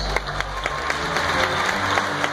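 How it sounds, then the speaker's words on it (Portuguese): A theatre audience applauds children on stage at a church show, sustained clapping rising to a steady, dense patter with a low hum underneath. "Palmas para as crianças."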